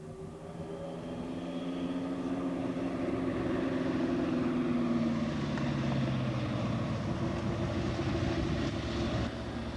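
A vintage race car's engine runs with a sticking throttle, a steady droning roar whose pitch slowly falls and shifts. It holds fairly loud for about ten seconds with no talk.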